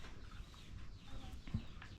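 A chicken clucking softly outdoors in rural Laos, a few faint, brief clucks over low background noise.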